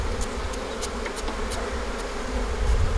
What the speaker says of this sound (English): if you shake them into the hive